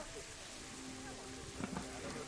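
Steady rain hiss falls over a zoo in the Planet Zoo game, a constant wash of drops with faint thumps and a low hum beneath.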